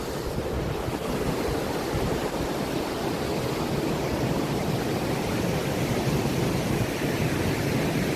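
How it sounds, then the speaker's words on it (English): Steady, loud rushing roar of waterfalls being crossed on foot outdoors, a continuous broadband wash of falling water with wind buffeting the microphone and no pauses. "I am crossing the waterfalls right now"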